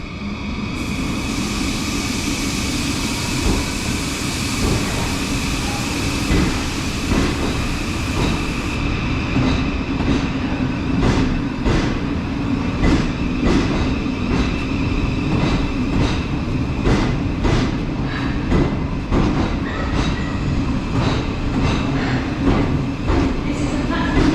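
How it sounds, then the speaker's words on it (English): Great Northern passenger train departing Moorgate station on a 10:33 service to Welwyn Garden City, with a steady loud rumble of wheels and motors and a run of rhythmic clicks over the rails. "we're now departing. It's the 1033 Great Northern service to Welwyn Garden City"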